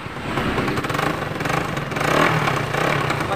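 A Suzuki Rider 150 motorcycle engine keeps running at a steady idle with the key removed, a continuous close mechanical drone with slight rises in level and no talking over it.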